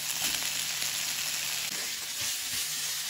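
Finely chopped carrot fries in a hot pan as a filling for samosas, giving a steady, close, bright sizzle that crackles evenly throughout with no voices over it.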